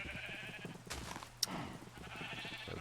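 Sheep bleating in Minecraft, a faint wavering bleat set over low game ambience, with a short sharp click partway through and no talking.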